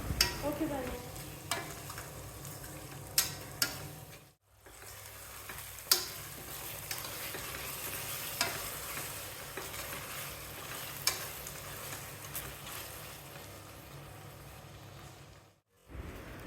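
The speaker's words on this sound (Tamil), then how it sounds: "இப்போ 3/4 கப் அளவுக்கு தயிர் சேர்க்குறேன். 180 ml. அடுப்பை லோ ஃப்ளேமில் மாற்றிட்டு ஒரு 2 நிமிஷத்துக்கு வதக்கலாம்." Yogurt sautéed on a low flame with spices for a one-pot mushroom biryani; a soft, steady sizzle with occasional sharp spoon clicks against the pot and two brief quiet gaps, no talking.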